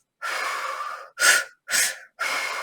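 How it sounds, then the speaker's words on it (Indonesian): Deep belly breaths from a holotropic breathing demonstration: one long, airy inhale followed by three shorter, forceful breath bursts, close and loud with silent gaps between them. "ada teknik di mana kalian tarik napas dari perut seperti"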